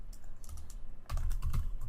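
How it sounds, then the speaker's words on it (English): Keys tapped on a computer keyboard while entering a delete command at a Windows command prompt, a quick run of clicks that grows denser and louder in the second half, with no talking. "If I want to delete this file, I just type delete,"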